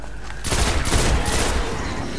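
Loud, close bursts of automatic gunfire in Destiny rattle for well over a second, rising abruptly after a brief quiet start and tailing off at the end.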